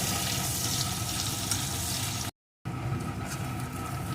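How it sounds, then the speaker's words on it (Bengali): Chopped onion fries gently in a pan for a fish curry with potato and eggplant, a soft continuous crackling sizzle broken by one short silent gap, with no voices. "পেঁয়াজ কুচিটা একটু ভেজে নেব খুব লাল লাল করে ভাজবো না"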